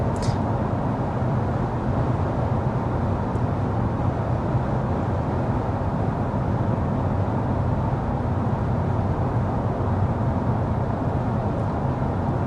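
Steady road and tire roar fills the cabin of a 2025 Toyota Camry XSE cruising at 55 mph with the fan on its lowest setting, an even, unbroken broadband hum at constant level with no talk.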